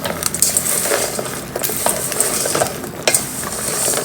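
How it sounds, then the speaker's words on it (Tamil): Sorghum grains are stirred in a hot pan while they pop, a loud, close, continuous rattling scrape with crackling sizzle and sharp clicks as kernels jump against the metal. "எல்லாத்தையும் ஊற்றிட்டு அப்படியே கிண்ட வேண்டியதான்"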